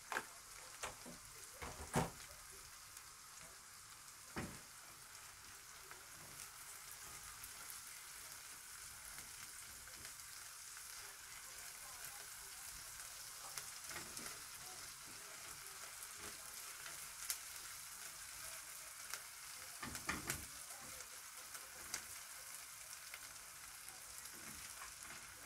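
Garlic frying in a pan for a zucchini dish, a faint, soft continuous sizzle with a few light clicks and knocks, heard alone.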